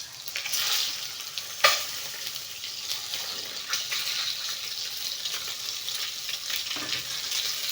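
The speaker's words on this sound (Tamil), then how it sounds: "இப்போ வந்து இந்த எண்ணெயில் அப்படியே முட்டை போட்டுக்கலாம்." An egg dropped into hot oil in a pan sizzles loudly, with a sharp crackle as it lands and a continuous spitting, bubbling hiss afterward.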